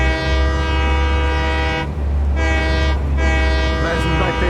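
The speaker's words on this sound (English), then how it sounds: "That's my train." A train in the video game Satisfactory rumbles along while its horn blares loudly in long sustained blasts, broken by brief gaps.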